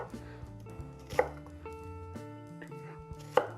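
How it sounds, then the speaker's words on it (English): A knife rough-chopping a whole sweet onion on a cutting board, with a few sharp, separate chops, two of them louder, set against a soft tonal background. "1 whole sweet onion, just rough chop it."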